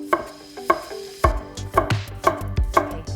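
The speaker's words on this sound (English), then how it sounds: "I'm going to go ahead and slice these all about similar shapes." A knife slicing vegetables such as bell pepper on a cutting board, a series of crisp close chops in a steady, slightly uneven rhythm with a sharp tap on each cut, no talking.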